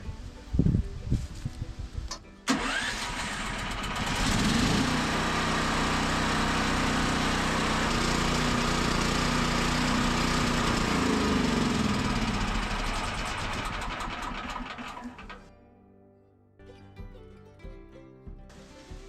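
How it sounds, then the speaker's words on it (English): Backup generator engine for a camp, running steadily with a loud continuous drone after a rough start, then sputtering and dying as its carburetor runs dry with the fuel turned off. "So I'm going to start this up and then turn the fuel off and let it run the carburetor dry."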